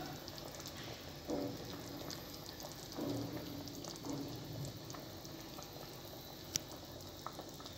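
A pot of oxtail and cow feet simmers into soup, a faint, steady bubbling with soft irregular pops and occasional clinks, no talking over it.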